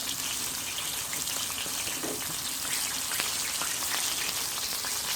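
Fish frying in hot oil sizzles in a steady, dense crackle with scattered pops, close and continuous without talking.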